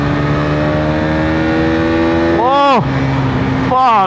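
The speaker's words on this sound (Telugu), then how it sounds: "ఎగ్జాస్ట్ నోట్ అయితే అరుపులు అర్పిస్తుంది" A Hero Karizma XMR 210cc liquid-cooled, fuel-injected motorcycle idles with a steady, throaty exhaust note, then blips its throttle twice in sharp rising-and-falling revs, loud and close.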